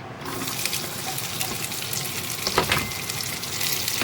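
Chopped onions hitting hot oil in a pan while cooking an onion-and-yogurt dish, giving a steady, close, broadband sizzle with bubbling crackle and a brief burst of louder spattering partway through.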